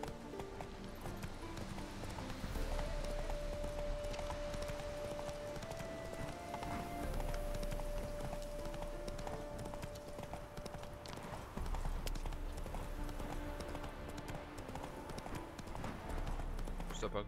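Horse galloping in Witcher 3: Wild Hunt, with steady, rapid clip-clopping hoofbeats running throughout, mixed under game music and character dialogue.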